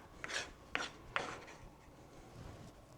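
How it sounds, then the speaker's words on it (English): Lemons being zested on a grater for old-fashioned lemon butter: three quick, close rasping strokes in the first second and a half, then only a faint, quiet kitchen background. "It's just such a messy thing, zesting."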